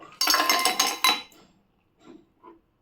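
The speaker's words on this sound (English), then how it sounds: "Then take any type of fancy glass and pour" Drink ingredients for a Red Ocean mocktail clattering and clinking into a fancy glass, a loud dense burst for about a second followed by two soft clinks, no talk.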